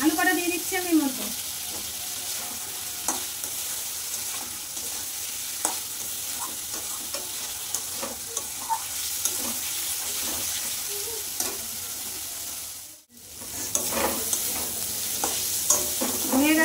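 Potatoes sizzling and frying in a pan for a fish curry, with steady crackling and repeated stirring scrapes throughout, a brief dip in the sound midway, then the sizzle resumes.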